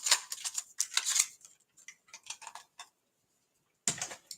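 Scissors cutting paper for a birthday card, close, crisp snips in irregular clusters with a short silent gap before a final cut.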